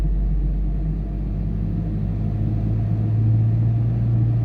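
A 1999 Toyota Kijang LGX engine is throttled up, giving a close, loud, deep rumble that holds steady and swells slightly toward the end, with no pauses.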